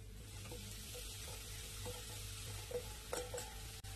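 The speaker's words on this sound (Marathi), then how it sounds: "तूप चांगलं तापलं की त्याच्यात आपल्याला आपल्या हे पोळींचा दळलेला गाला हा टाकायचा आहे" Ground leftover roti stirs in hot cow ghee, a soft frying sizzle broken by a series of light scraping strokes and taps from the spoon against the pan, with one sharper click near the end.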